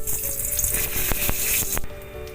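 Bay leaf and dried red chilli sizzle in hot mustard oil in a kadai, a steady close hiss with a few sharp crackles and pops, alone without talk.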